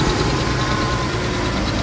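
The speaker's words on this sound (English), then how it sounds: "it's got this intermittent knock that comes from this side" A warm car engine idles with a steady, loud, low rumble close by, an even mechanical drone; no distinct knocking stands out above the idle.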